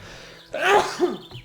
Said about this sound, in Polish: Uwaga, będę kichał.